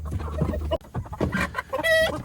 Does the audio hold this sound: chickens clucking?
yes